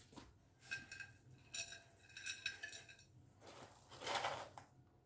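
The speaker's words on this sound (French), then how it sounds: "je commence donc par un peu de gravier au fond" Gravel poured into the bottom of a ficus pot for repotting, heard as several bursts of gritty, clinking rattle with short pauses between pours, fairly close and moderately loud.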